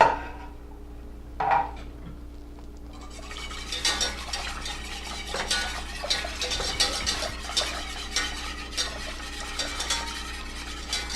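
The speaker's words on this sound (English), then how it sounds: "Go ahead and just put that cream right in there. Now we're going to whisk it together." A whisk clatters against a pan as cream is stirred into browned butter for Alfredo sauce, starting with a couple of isolated taps and then turning into a steady, rapid scraping and clinking over a low background hum.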